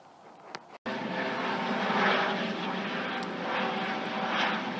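A police helicopter flies overhead, and its engine and rotor produce a broad, steady roar that stays loud and constant after a brief cut.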